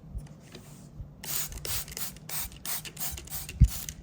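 Hand sprayer misting cherry seedlings grown from seed, a series of short hissing spray bursts in a quiet room, with a small knock near the end.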